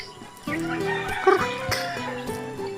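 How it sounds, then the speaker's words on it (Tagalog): White Chinese chickens cluck up close in a short series of soft, repeated calls. "Yung puting manok na yung Chinese chicken guys."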